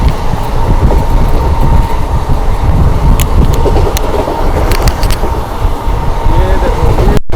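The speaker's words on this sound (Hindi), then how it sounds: "ये देखो भाई प्योर आईसीएफ लिबरी वाली ट्रेन स्किप करेगी सैयद राजा करता हुआ।" A blue ICF-coach passenger train rushes through Sayed Raja railway station at around 110 km/h without stopping, a loud continuous rumble of wheels on rails with scattered sharp clicks and rattles, heard from on board.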